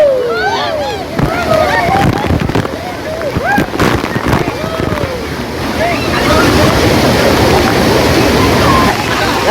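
Water pours over a village weir at Dhamanse in Ratnagiri, a loud, close, steady rush that builds in the second half, while people shout and talk over it during the first several seconds.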